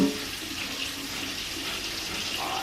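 Running tap water rinses a cast iron pot, a steady close splashing hiss that fills the short moment without any talk.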